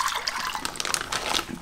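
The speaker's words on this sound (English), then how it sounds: "So what I'm gonna do is I'm just gonna pour that out." Water poured out of a container holding a live octopus splashes and gurgles in a continuous, fairly loud stream with uneven spatters.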